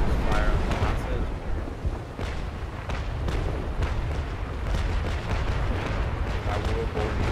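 Continuous booming broadside fire from sailing-ship cannons in the age-of-sail naval battle game Naval Action, a dense, rumbling barrage with overlapping blasts throughout and voices mixed in.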